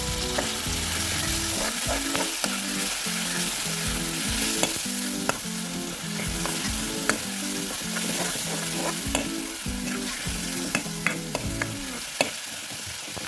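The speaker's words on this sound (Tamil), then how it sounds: "இதை நல்லா கொஞ்சம் எண்ணெயில் பச்சை வாசம் போகிற அளவுக்கு வணக்கிக்கலாம்." Cumin, pepper, ginger and onion sauté in oil, giving a continuous close sizzle with regular scraping stirs of a ladle against the pan. No voices are heard.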